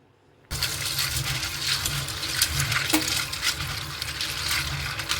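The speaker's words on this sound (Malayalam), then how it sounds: "ഇനി നല്ലപോലെ ഒന്ന് കഴുകിയിട്ട് നമുക്കിത് വേവിച്ചെടുക്കാം" Tap water gushes steadily over pasta being washed, a loud continuous rush starting abruptly and running without a break, with a faint clink partway through.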